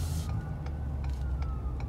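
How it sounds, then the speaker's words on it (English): Police sirens wail faintly in the distance, a thin steady tone heard under a low outdoor rumble. "I hear some police sirens."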